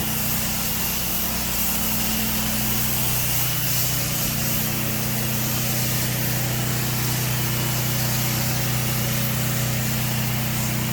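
A gas pressure washer running at regular strength with a 2.1 injector during a full house wash in Celebration, with no surfactant in the soap, gives a steady, loud engine drone and hiss that continues unbroken and alone throughout.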